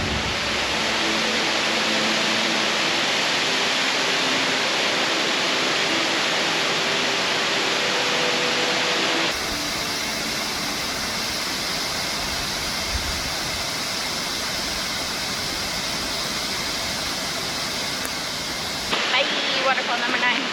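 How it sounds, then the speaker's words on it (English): Upper North Falls, a 65-foot waterfall in Silver Falls State Park, gives a steady broadband roar of falling water that fills the whole clip, shifting in tone partway through. "This is the Upper North Falls, and it is 65 feet high."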